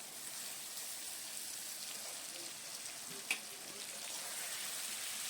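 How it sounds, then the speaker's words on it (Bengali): A paste of ginger, cumin, coriander and chilli frying in a pan, a faint even hiss that stays steady, broken once by a brief knock. "এবার মশলাটা আমি ভালো করে কষিয়ে নিলাম"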